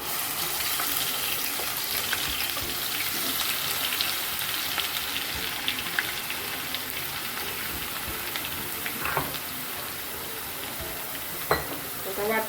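Ground masala paste frying and being stirred in hot oil for dhaba-style sev bhaji, a soft continuous sizzle with light scraping and clinks throughout.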